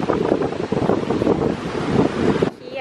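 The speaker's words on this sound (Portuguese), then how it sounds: "tá ventando bastante agora" Loud wind buffeting a microphone, a roaring rumble with surf-like wash that drops off abruptly near the end.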